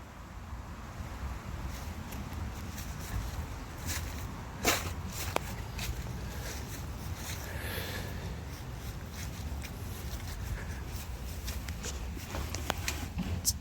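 Propane-fueled tri-fuel portable generator running inside a wooden enclosure, a steady low engine rumble and exhaust hiss from the muffler port, continuous and close, with some wind noise.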